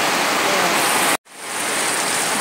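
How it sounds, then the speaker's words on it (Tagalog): Heavy rain pours with strong wind in Mindanao, a dense, loud, steady roar of water that cuts out for a split second midway and then swells back to full strength, with no talking. "Kusuking hangin, kusuking ulan, no?"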